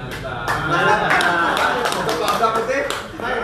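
An audience at a gathering of Aceh parliament members claps, a dense patter of hands under and around a speaking voice, close and fairly loud throughout.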